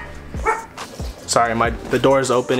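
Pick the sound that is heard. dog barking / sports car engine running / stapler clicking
dog barking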